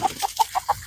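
Several short, close clucks from backyard chickens in a Texas garden, coming in an irregular series of five quick calls with brief gaps between them.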